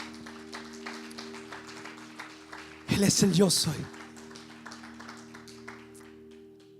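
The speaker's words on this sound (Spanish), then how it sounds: "Dile palmas fuerte a Dios." A church congregation bursts into loud clapping in praise to God, a dense burst of applause lasting about a second after a preacher's spoken line, over a steady background hum, then fading back to speech.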